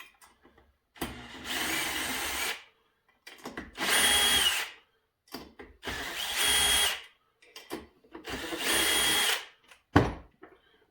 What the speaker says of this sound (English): I'm going to grab my drill and save my hands some work here.